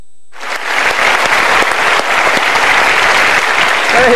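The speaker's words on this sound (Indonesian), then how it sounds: "Kita berikan tepuk tangan" A television studio audience at a motivational talk show bursts into sustained applause after a short silence, dense and loud clapping that continues evenly to the end.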